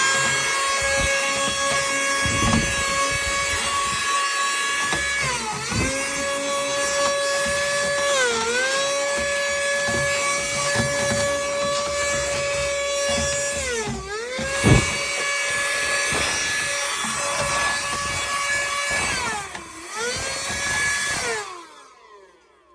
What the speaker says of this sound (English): I vacuum everything up with this pocket vac